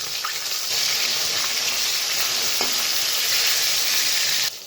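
Chital fish pieces fry in a little shallow oil, a steady loud sizzle with occasional clicks and scrapes as the pieces are turned, ending in a sudden drop near the close.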